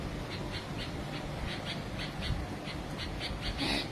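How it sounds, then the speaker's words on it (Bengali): A bulbul calls outdoors in a series of short, repeated squawking notes at a moderate distance, heard over steady wind noise and low rumble. "পাখিটাকে দেখা যাচ্ছে, ওটা হচ্ছে বুলবুলি পাখি।"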